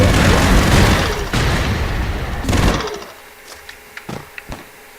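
Dense gunfire and booming explosions in the Broforce video game fill the first three seconds, then drop away to scattered sharp shots and small blasts.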